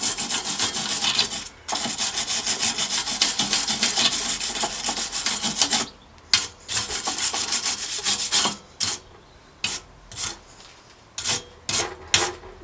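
Abrasive pad or steel wool rubbing rust from a vintage Viking bicycle frame, a close, loud, steady scrubbing that runs continuously and then breaks into short separate strokes.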